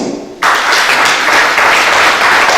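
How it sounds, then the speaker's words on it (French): Gathering of Ivorian community leaders in Italy breaks into loud applause, starting abruptly after a brief pause and continuing as a steady, dense roar of clapping. "Je voudrais que les Ivoiriens de l'Italie, vous vous applaudissez"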